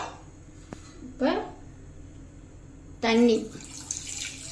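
Water is poured from a vessel into sugar in a kadai for Mysore pak, heard as two short splashing pours about two seconds apart, fairly close, with a quiet background between.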